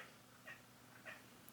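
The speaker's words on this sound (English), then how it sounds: "I don't know if you can hear the chattering in the background, but that's my kitty cat." A pet cat chatters at birds outside, giving two faint, brief chirping bursts over quiet room hiss.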